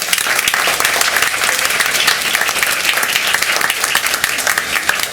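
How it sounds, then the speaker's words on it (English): A school board meeting audience applauds a high school group with steady, dense clapping that stays loud and close for the whole stretch, with no voices breaking through. "Let's give Berkeley High one more round of applause."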